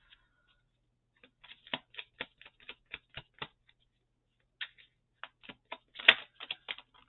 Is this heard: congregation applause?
no